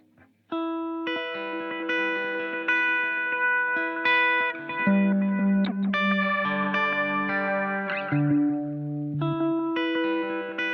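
Looped guitar line played through a Strymon EC-1 echo pedal, with clean sustained notes and chords trailing into repeats and modulated echoes, steady and fairly close with no talking.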